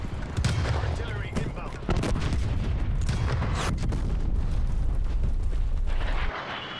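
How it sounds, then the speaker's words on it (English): Artillery strike explosions in Call of Duty Black Ops Cold War, with heavy booms and crackling blasts rolling continuously for several seconds, loud and close, over dense battle noise. "Artillery targeting detected."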